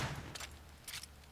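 Gunfire in the Call of Duty Infinite Warfare zombies mode: two short bursts of shots, fairly faint, with a low hum running underneath.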